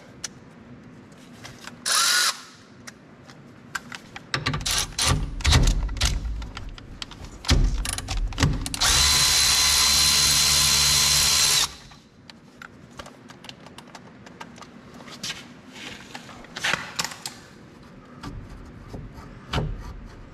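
A power tool fitted with a 3/8 Allen socket spins and hammers at a bolt on a John Deere Gator 620i front axle, loud close bursts with one sustained several-second run amid clanks and shop noise.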